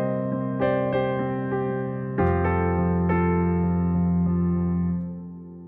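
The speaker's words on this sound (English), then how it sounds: "And of course, what you hear here is the reverb." A Pianoteq 8 virtual piano on a new age preset plays a few sparse notes and chords with long reverb tails, each strike ringing out and slowly decaying, clean and alone.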